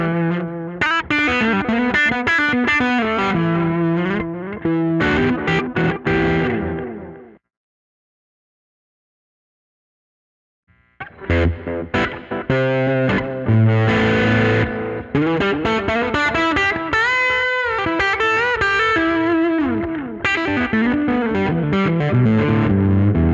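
Electric guitar with reverb and delay on a Mac GarageBand setup, played as a loud distorted phrase that stops for a few seconds of silence and then resumes with sustained, echoing chords and lines.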